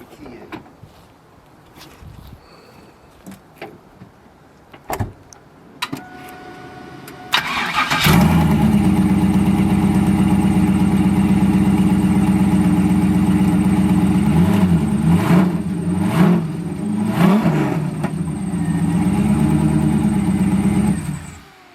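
Turbocharged Camaro street car cranking over and firing up at about seven seconds, then a loud rough idle with several sharp revs blipping up and back down, close and continuous until it cuts off near the end.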